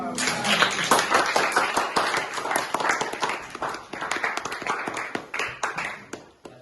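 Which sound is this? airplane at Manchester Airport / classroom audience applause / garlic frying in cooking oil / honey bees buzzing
classroom audience applause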